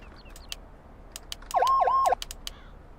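A vehicle horn in the FS:911 emergency-services video game gives one steady two-part blast lasting about half a second, loud over a quiet background, with brief clicks scattered around it.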